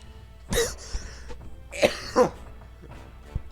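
A person with a lost voice coughs several times up close: a harsh cough, a softer one, then two quick rough coughs, followed by a faint last throat sound over quiet room hum.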